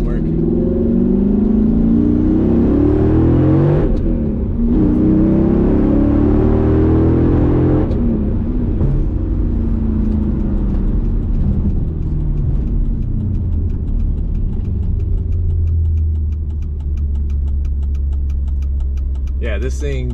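A tuned Mercedes C55 AMG with a 6-speed manual gearbox accelerates from inside the cabin, its engine rumbling loudly and rising in pitch through the gears, then settling to a lower drone. A voice talks over the engine noise.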